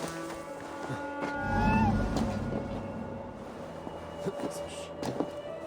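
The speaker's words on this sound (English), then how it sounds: "I like the fact there's a cat that's like rolling around here" A cat meows in a Norse-mythology video game, a few tonal calls rising over steady game ambience and low background hum.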